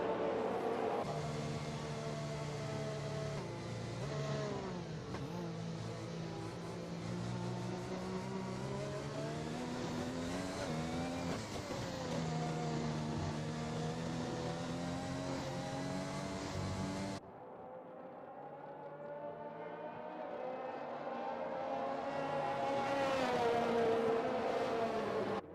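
Formula 1 race cars in a video game roar off together at the race start: a dense, loud pack of high-pitched engines rising and falling in pitch as they accelerate, with a brief dip before the revving swells again.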